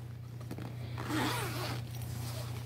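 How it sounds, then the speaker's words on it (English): The zipper on a Mickey Mouse Disney bag is pulled in one short, close rasping run over a low steady hum. "And it comes with a zipper."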